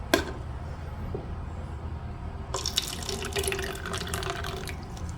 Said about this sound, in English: I'm only putting water in here